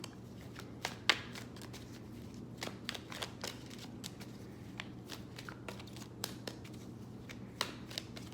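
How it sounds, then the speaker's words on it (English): Tarot cards are shuffled by hand, a steady run of soft riffling clicks and flicks with occasional sharper snaps, close and quiet, with no talking. "Emperor just flew over as I'm shuffling."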